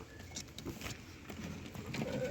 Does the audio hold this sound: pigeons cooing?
yes